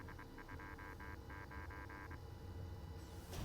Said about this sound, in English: This is Morse code, by the way.